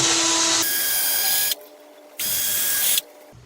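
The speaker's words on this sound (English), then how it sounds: "Take our drill." A power drill whines loudly in two bursts drilling into a wooden chair, each about one and a half seconds, with a short quiet gap between them, close up.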